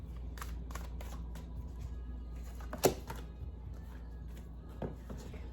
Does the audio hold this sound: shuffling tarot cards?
yes